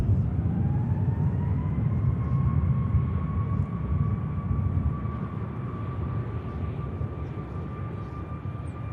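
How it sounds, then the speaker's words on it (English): Diverted aircraft at Manchester Airport, a steady loud jet engine roar with a rising whine tone held throughout, constant and close, no voices. "And here is that already diverted aircraft."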